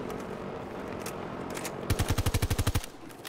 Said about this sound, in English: So boom, we're shooting.